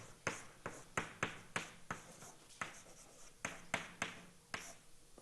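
Chalk strikes and scrapes across a lecture-hall blackboard as mathematical notation is written out, a rapid run of sharp taps and short strokes in an irregular rhythm. Each mark sounds close and crisp against a quiet room.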